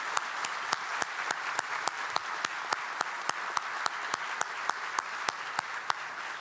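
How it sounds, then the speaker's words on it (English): An audience at a farewell reception claps in a steady round of applause, dense and sustained, with a few sharp individual claps standing out regularly above the wash of hands. "Please join me in one more round of applause recognizing the awesome department and the Student Innovation Center creative"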